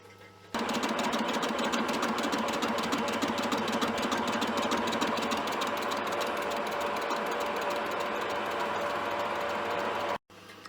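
A Myford Super 7 lathe turning a cylinder runs with a steady, loud mechanical whir and fine rapid chatter that starts abruptly and continues evenly, then cuts out briefly near the end.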